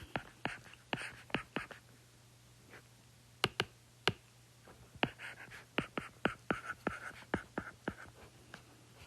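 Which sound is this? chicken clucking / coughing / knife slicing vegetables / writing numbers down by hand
writing numbers down by hand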